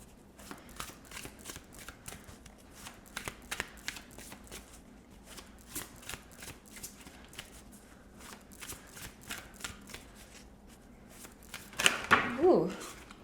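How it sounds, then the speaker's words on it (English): A deck of tarot cards being shuffled, with steady soft riffling and flicking for a long stretch, quiet and close, and a few louder card snaps at the end. "let's grab you your tarot cards and see what else Spirit wants you to know"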